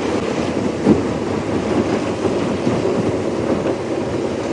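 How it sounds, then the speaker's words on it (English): Strong wind roars and buffets against the microphone on an open safari drive, a constant broadband rush with gusty swells and no voices. "My cap's going to blow off because it's too windy out here."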